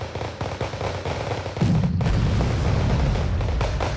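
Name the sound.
tank gunfire in video game Wargame Red Dragon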